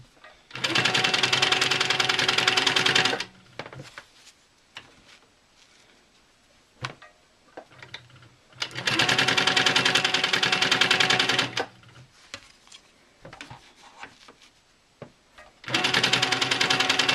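A sewing machine stitches around an oval appliqué in three loud, fast bursts of rapid needle clatter, separated by quiet pauses filled with small handling clicks and fabric shifting.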